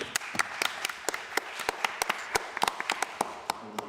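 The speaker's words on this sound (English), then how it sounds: "One more round of applause, please." An audience at a panel event claps in a light, scattered round of applause, individual claps sharp and distinct rather than a dense roar, fairly quiet and steady throughout.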